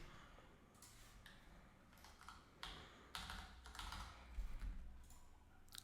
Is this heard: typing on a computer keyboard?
yes